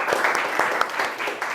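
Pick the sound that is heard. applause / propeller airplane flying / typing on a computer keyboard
applause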